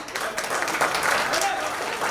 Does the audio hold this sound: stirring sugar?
no